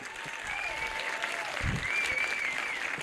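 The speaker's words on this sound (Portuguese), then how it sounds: "Eu quero que vocês aplaudam aqui a Rosângela" An audience at a municipal public budget meeting claps steadily, a dense patter of hands sustained for a few seconds, moderately near, with a voice briefly heard among it.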